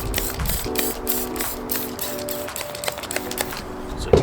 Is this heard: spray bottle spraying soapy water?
yes